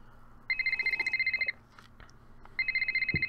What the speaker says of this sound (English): let's start with the phone, the most favorite part of Nancy Drew.